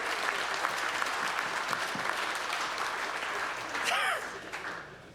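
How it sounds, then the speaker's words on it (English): An awards-night audience gives a brief, dense round of applause that fills the room evenly, with a few whoops rising near the end. "What about a round of applause for all those prizes?"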